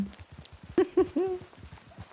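Hoofbeats clip-clop in a steady rhythm, with a horse's short snorting calls breaking through a few times, fairly close.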